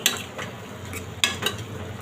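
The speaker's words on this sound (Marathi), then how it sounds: "छान ढवळून घ्यायची" A spoon stirs an eggplant and potato curry in a pan over medium heat, with a few close scraping strokes over a soft background sizzle.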